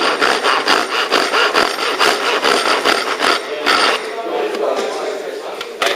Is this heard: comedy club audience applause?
no